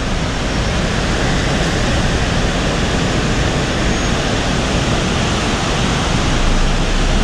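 The Terek, a mountain river swollen by rain, roars as a steady, loud, dense rush of churning water that fills the scene from start to finish, with no voices.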